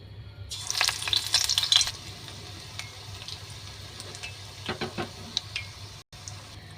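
Soft sizzling and crackling of coriander leaves frying in a pan, with occasional stirring clicks, steady and close.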